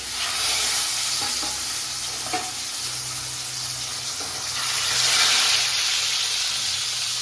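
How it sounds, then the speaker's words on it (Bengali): Pieces of fried fish dropped into a sizzling pan of hot oil, a strong continuous hiss close by, swelling partway through, with a few light knocks of stirring. "এবার আমি মাছগুলো দিয়ে দিচ্ছি"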